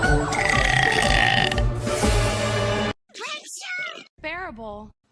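A person lets out a long, loud, rumbling burp, followed by two shorter vocal bursts with wavering pitch, all close to the microphone.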